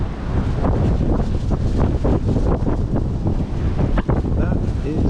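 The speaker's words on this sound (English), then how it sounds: "That is windy." Strong wind gusts buffet the microphone at a lakeside fishery, a loud continuous low rumble and roar that swells and dips across the whole stretch, with no clear talk.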